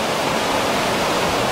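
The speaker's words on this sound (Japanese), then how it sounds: "うわ、滝の上に来ました。" Ryuzu Falls sends a steady, broad roar of rushing water from near the top of the falls. It is loud and unbroken, with no talk.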